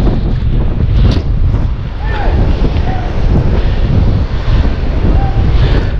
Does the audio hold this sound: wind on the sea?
yes